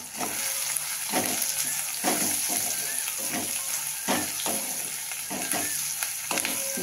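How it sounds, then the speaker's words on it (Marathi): A tomato-onion masala with curry leaves and coriander sizzles steadily as it is stirred, with a rhythmic scrape of the utensil roughly every half second. "छान असं परतून घेऊया."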